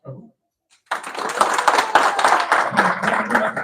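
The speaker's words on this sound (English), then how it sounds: "now let's give him one more round of applause to Prabhu" Audience applause for a speaker at a devotional talk on Sri Hanuman, a brief voice and pause, then a sudden burst of steady, fairly close clapping that carries on to the end.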